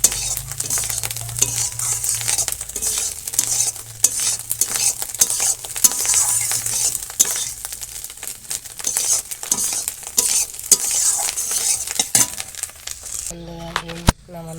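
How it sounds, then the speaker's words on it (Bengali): An egg fries in oil in a pan in a village kitchen, with a steady sizzle and scattered scrapes and clinks of a utensil throughout, and a few louder metallic knocks near the end. "ডিম ভাজাটা প্রায় হয়ে গেছে এখন নামিয়ে দেবো"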